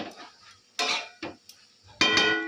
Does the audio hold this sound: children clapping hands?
no